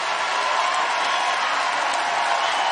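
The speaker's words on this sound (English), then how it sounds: "Student section is loud and into it." A college basketball student section at a Gonzaga versus Utah NCAA women's game roars in a loud, unbroken wash of crowd noise that holds steady from start to finish.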